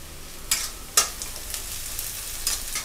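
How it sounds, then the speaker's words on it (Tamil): Curry leaves and onion sautéing over a high flame for a raw jackfruit sukka, with a steady crackling sizzle and a few sharp scrapes and clacks from stirring, up close with no voices. "கருவேப்பிலை, வெங்காயம் ஹை ஃப்ளேமில் வச்சு நல்லா வதக்கிக்கலாம்."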